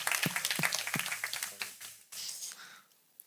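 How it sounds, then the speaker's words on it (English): Audience applause in a theater during a live flight simulation demo at FSWeekend 2024, a brief burst of clapping that quickly fades, with some background murmur. "I think a round of applause is"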